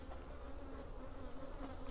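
Bees buzzing steadily around a murky water container, a faint continuous drone from several insects with no talking.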